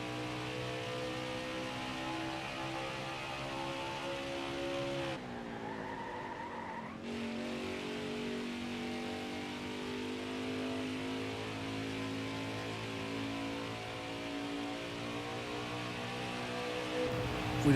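Race car engine droning steadily through a qualifying lap at Gateway in a racing video game, with layered harmonic whine shifting as it shifts gears and a brief dip near the middle, continuous and loud with faint tire squeal.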